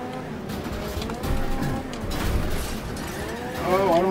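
A race car engine revving and slamming into walls and other cars in Next Car Game's death race, with a damaged motor whining, thuds and crunches scattered through it, plus a rising tonal squeal near the end.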